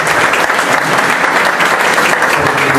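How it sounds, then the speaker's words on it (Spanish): An audience applauds university teachers at a book launch on macroeconomic analysis, the clapping loud, dense and steady from start to finish with no voices over it. "Quisiera un aplauso para los docentes universitarios."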